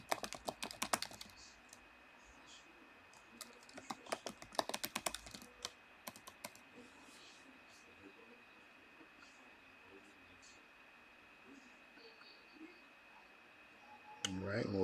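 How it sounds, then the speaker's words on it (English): Quiet clicks of typing on a computer keyboard come in short bursts, then fade into a low steady hum, with a brief faint sound at the end. "Let me type that again just to be sure."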